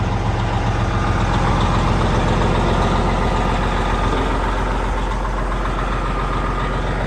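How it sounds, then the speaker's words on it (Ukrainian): A truck's diesel engine idles steadily after a five-minute battery charge, a loud, continuous low rumble with no talk over it. "П'ять хвилин зарядки і машина нормально заводиться."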